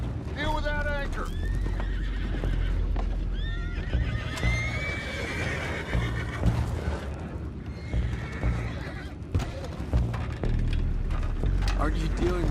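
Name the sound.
horses neighing, Red Dead Redemption 2 video game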